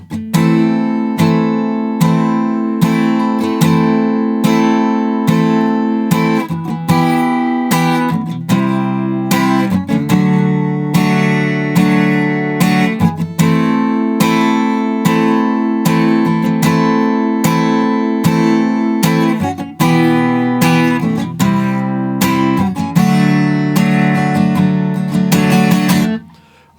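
Strummed guitar chords play the repeating chorus pattern of a song twice through, loud and continuous, with rhythmic strokes and no voices.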